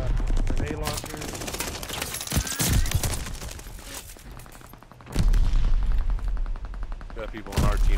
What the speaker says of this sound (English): Got people on our team that are randomly firing through wood.